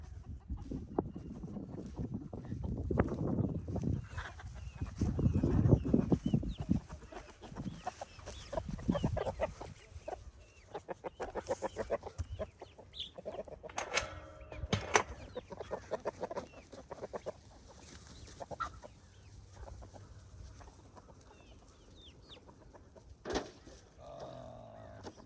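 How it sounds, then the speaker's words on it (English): Farm chickens on a Midwest farm clucking and murmuring close by during fall feeding chores, an irregular stream of soft clucks and squawks that is busiest early and thins out later. "Eat up, little chickies"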